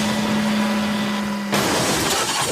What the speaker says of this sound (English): His flatbed biffed into the sidings to a stack of roofing slate